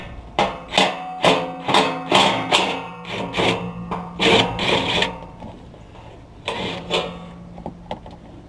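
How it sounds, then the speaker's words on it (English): An impact wrench spins off the 12 mm skid plate bolts on a 2016 Toyota Tacoma, firing about a dozen short, loud, rattling bursts in quick succession, then a pause before two more. "I've been looking for an excuse to use my impact wrench"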